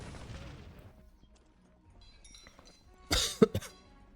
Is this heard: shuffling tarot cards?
no